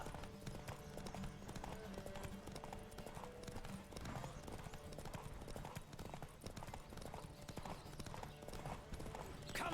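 Steady clip-clop of horse hooves at a brisk pace in The Witcher 3 video game, with game music and ambient sound underneath throughout.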